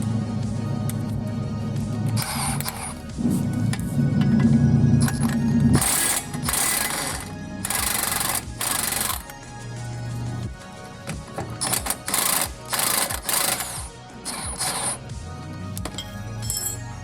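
A half-inch Snap-on impact gun loosens trailing arm bolts on a rear-wheel-drive Subaru, firing in a series of short, loud, rattling bursts close by, separated by brief pauses and metallic clinks.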